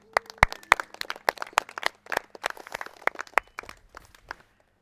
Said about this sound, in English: Give it a little clap.